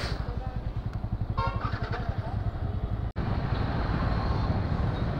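Several motorcycles on a Sunday group ride idle and rumble nearby with a loud, pulsing low-frequency throb. Engines rev now and then, and faint voices talk over them.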